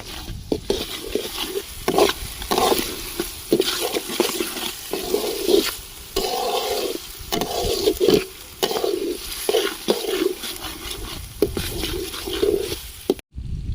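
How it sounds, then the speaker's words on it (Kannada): Ginger garlic paste frying with onions in a pan, heard as a low sizzle under rhythmic scraping and stirring strokes, close and moderately loud, with no talking. "ಈರುಳ್ಳಿ ಫ್ರೈ ಆಗಿದೆ, ಇವಾಗ ಶುಂಠಿ ಬೆಳ್ಳುಳ್ಳಿ ಪೇಸ್ಟ್ ಹಾಕ್ತಾ ಇದ್ದೀನಿ."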